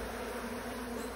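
Honey bees buzz steadily around a hive cut from a tree trunk late in the harvest season, a continuous low insect drone heard close up with no talking.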